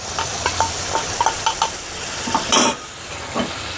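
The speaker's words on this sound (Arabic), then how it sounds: "نقلبها كويس زي ما انتم شايفين كده." A spoon stirs sauce with peppers in a hot pan, giving a series of short scraping clicks over a soft sizzle, with one louder scrape partway through.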